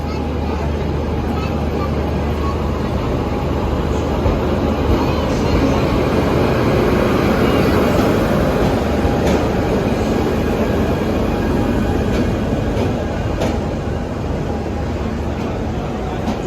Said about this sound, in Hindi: ये हमारी ट्रेन आ गई।